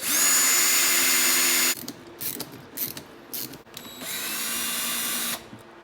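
A power drill bores holes for a boat transducer bracket in two loud whining bursts, separated by clicks and handling noises, close at hand with no voices.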